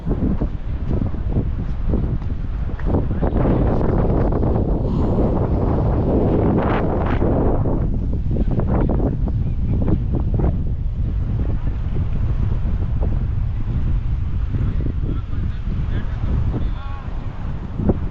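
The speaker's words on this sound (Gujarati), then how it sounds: "દરિયાનો કાંઠો." Wind roars and buffets steadily across an open seashore, a loud continuous rumble with gusty swells and the wash of the sea beneath it.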